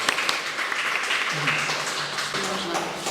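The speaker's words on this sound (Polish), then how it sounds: "brawa dla wszystkich Państwa" Applause from guests at an art exhibition opening runs as a continuous, moderately loud patter of clapping, with a voice speaking over it.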